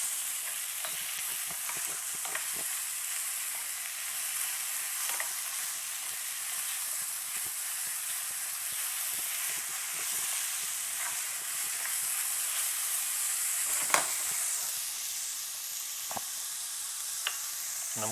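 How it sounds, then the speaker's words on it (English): Onions and garlic brown in a pan for shepherd's pie, a steady close sizzle with occasional stirring clicks throughout. "Now over here, I just want to brown my onions and garlic."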